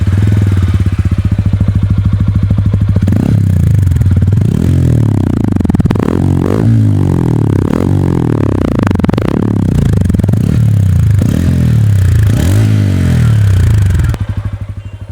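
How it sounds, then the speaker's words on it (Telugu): A TVS Ronin motorcycle revs its engine, a loud, deep exhaust note swelling and falling in repeated throttle blips over a steady idle, close and continuous. "ఇది టీవీఎస్ రోనిన్ యొక్క ఎగ్జాస్ట్ నోట్"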